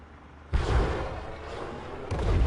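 Comanche helicopter gunfire in the video game Comanche 4: a loud, sustained rumbling barrage opens abruptly, rolls on steadily, then swells again with a fresh burst near the end.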